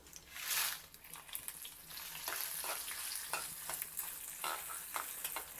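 Dried red chillies, including two Byadagi chillies, fry in hot oil with mustard seeds and fenugreek for a Telugu roasted roti chutney, giving a steady close sizzle with scattered crackles and pops and a brief louder burst near the start.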